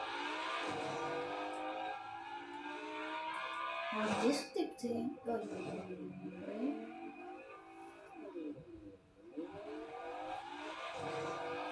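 A car in the Fortnite video game drives with a droning engine whose pitch swoops up and down as it revs and shifts, while a player talks over it.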